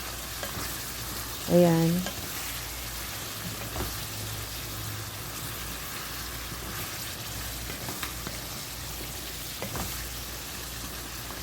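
Mutton gravy frying and sizzling in oil for a spicy creamy dish, a steady close crackle and bubble throughout, with a brief spoken word near the start.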